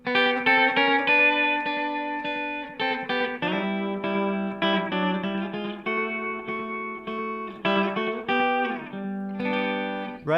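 A clean electric guitar played country-style with no compressor, a thinner tone as it picks bright single notes and short chord stabs with uneven attack and decay, close and alone.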